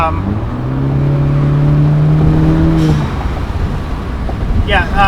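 A Honda Civic's 1.5-liter turbo engine revs up loudly with a rising, throaty exhaust note, then the pitch drops off as it shifts, with wind rushing steadily through open windows.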